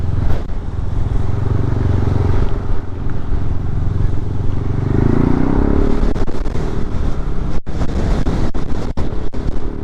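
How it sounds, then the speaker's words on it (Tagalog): Strong gusts buffet the microphone on a mountain road between Nueva Vizcaya and Pangasinan, a loud continuous low rumble that swells midway, with sharp crackling pops near the end. "Grabe ang lakas ng hangin."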